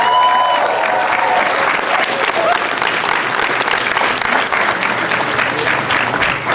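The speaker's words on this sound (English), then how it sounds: "give yourselves a round of applause for that" A convention crowd applauds, a loud, dense wash of clapping that holds steady throughout with a faint background cheer.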